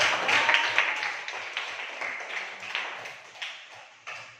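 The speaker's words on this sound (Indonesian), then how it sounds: "beri tepuk tangan untuk kita" Clapping in a classroom lesson, a small group applauding with uneven, fading bursts and a final renewed clap.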